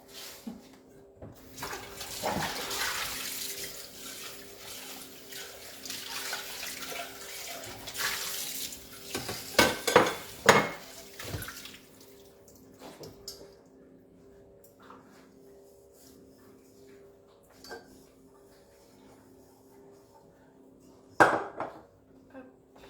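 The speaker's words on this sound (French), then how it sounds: "je dois faire moi-même la vaisselle" Water runs from a tap into a sink as dishes clink and clatter, the flow starting and stopping in bursts.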